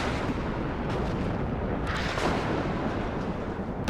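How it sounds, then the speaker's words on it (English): Rumbling artillery fire in the WARNO real-time strategy game, with muffled booms and bursts rolling together into a continuous dull roar, with a sharper blast near the middle. "he's trying to do some more artillery here"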